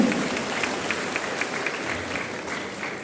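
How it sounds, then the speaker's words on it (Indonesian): Audience applause at the opening of a BKSN 2024 seminar in Pontianak, West Kalimantan, heard as a soft, even patter of clapping lasting about three seconds. "Mari tepuk tangannya meriah untuk kita semua pada hari ini."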